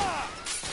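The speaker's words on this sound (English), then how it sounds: "I'm taking heavy fire." Heavy gunfire in the shooter game The Order: 1886, a fast burst of overlapping shots with rattling echoes, fairly loud and close.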